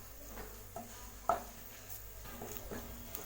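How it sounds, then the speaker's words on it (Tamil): Green chilies being sautéed in a pan with a faint, steady sizzle and a few soft scraping knocks, quiet and close. "பச்சை மிளகா லேசாக வதக்கிட்டோம்."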